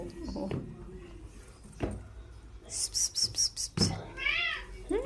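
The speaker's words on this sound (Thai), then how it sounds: "แมวของเพื่อนนะคะ" A cat belonging to a friend meows several times up close, short high cries in a quick run, with someone speaking softly to it in between.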